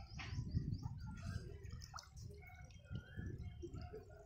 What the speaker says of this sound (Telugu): కారుతున్నాయిరా, వాటర్ టబ్బు పగిలింది